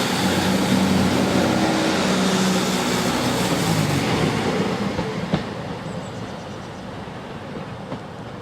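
A train on the Derwent Valley railway line rumbles steadily and loudly nearby, a broad continuous roar that slowly eases off, with a faint clack near the end.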